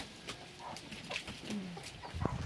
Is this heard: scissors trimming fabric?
no